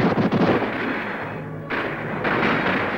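Musket fire in an animated Battle of Bunker Hill scene comes as a dense, loud burst of booming shots, briefly thinning before another heavy volley rolls in, with no voices.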